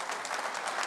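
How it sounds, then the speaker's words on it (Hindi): Brief, fairly soft burst of studio audience applause welcoming a guest on a Hindi television debate show, a continuous wash of clapping with no voices on top. "अनुराग भदौरिया, मलुक नागर साहब, तालियों के साथ स्वागत कीजिए।"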